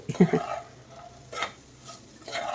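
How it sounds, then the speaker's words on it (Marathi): Okra (bhindi) is sautéed and stirred in a pan, making a few close scraping stirs over a soft, low sizzle, with quiet clinks as the utensil moves. "तर छान अशी परतून घ्यायची आहे"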